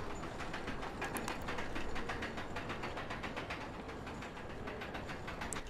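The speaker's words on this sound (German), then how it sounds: "Man hört schon das Klackern." Rapid, even clacking of a roller coaster car climbing its lift chain in the RollerCoaster Tycoon World video game, a steady mechanical ratchet rhythm over a dense background hum.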